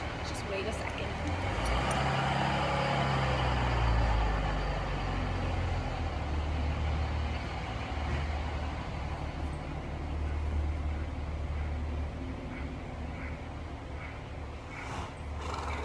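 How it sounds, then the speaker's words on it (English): A truck passes by outside a horse stable, a broad low rumble swelling and fading over several seconds, with a voice talking over it. "oh, now we have a truck"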